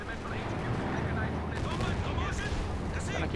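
Rocket fire in a tactical video game battle, a run of booming launches and blasts packed close together, with someone talking excitedly over the combat noise.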